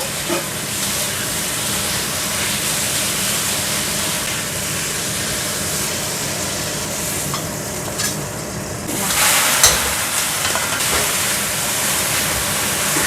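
Vegetables, including water spinach, stir-fry loudly in a small amount of oil, a close, continuous sizzle with scraping stirs and a brighter hiss surge near the end.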